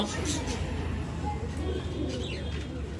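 Pigeons coo at a Bangalore pigeon sale, soft low cooing sounding repeatedly close by against a steady background hum, with a faint chirp or two.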